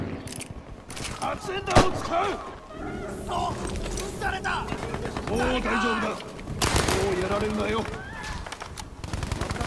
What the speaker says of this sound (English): Damn, they're shooting me from two directions.